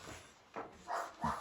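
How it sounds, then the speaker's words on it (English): Dogs barking somewhere in a home, a few short muffled barks at a distance, fairly faint and spread over a second and a half, with no talking. "my dogs are barking."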